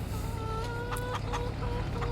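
A little baby male chick, about one month old, clucks and peeps in short repeated calls amid steady background noise, with some adult chickens nearby.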